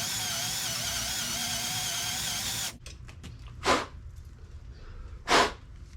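A power drill whines steadily for a few seconds while a number 26 bit bores a tap hole in a Model T door, then stops, followed by two sharp bursts of blowing air.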